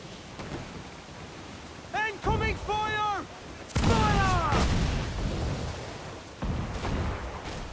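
Ship cannon fire booms out in Assassin's Creed IV: Black Flag during a naval battle, heavy blasts hitting around the two- and four-second marks, with voices and tonal game sounds layered in between.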